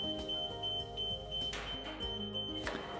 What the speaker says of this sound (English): If the stabilizers are not properly secured or deployed, one or more error conditions exist and an alarm will go off.